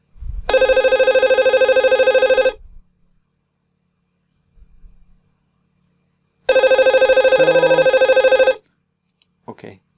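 A simulated phone in Cisco Packet Tracer rings loudly in two long electronic bursts, each about two seconds, separated by a silent pause, with a brief faint sound in between.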